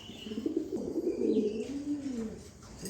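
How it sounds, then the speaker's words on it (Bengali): Two pigeons, a pair of fancy breeds kept by a hobbyist, coo in low, rolling, continuous calls close by, with a faint chirp and brief wing rustle and no talking. "খুব সুন্দর দেখার মতো দুইটা কবুতর"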